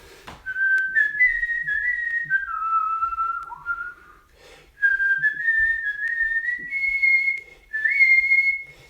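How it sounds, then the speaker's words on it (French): Someone whistles a melody clearly and close up, with gliding, sustained notes in two phrases separated by a short pause. "je me mets à siffler cette chanson-là"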